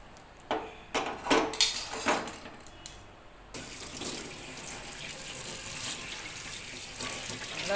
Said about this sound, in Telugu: రమ్మతో సహా వాటర్లో కడిగేసుకోవాలి